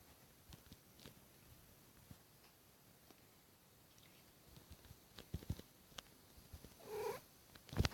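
A cat purring faintly close by, a low soft rumble under quiet rustling and a few light taps, with a brief louder vocal near the end.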